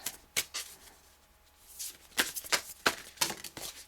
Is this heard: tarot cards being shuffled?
yes